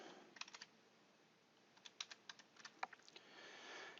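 Computer keyboard typing while entering a new employee's details into a Microsoft Access table: sparse clusters of light clicks and key taps, quiet and close, with pauses between bursts and no talking.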